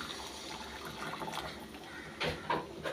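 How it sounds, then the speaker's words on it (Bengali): Hot water poured onto jaggery for a thin chutney, a steady faint trickle of liquid close by, swelling briefly near the end. "গুড় দিয়ে দিচ্ছি আর দিয়ে দেবো গরম জল"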